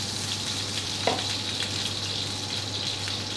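Potatoes frying in a generous amount of olive oil in a pan: a continuous, even hiss of sizzling, with a single soft clink of utensil near the start and no talking.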